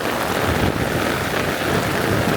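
Heavy rain pours over a vegetable field of okra and cauliflower, a dense, unbroken hiss of water drumming on leaves and soil, loud and steady with no voices.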